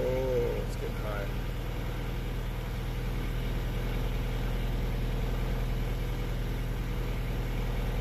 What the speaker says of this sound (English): So the car is idling at 1100 RPM, cold, and 85.